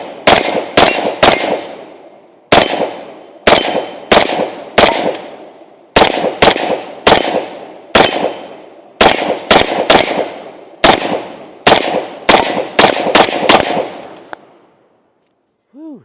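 A Zastava M92 rifle fires a long string of sharp, loud shots in quick bursts and singles, each crack ringing briefly before the next, ending in a brief lull.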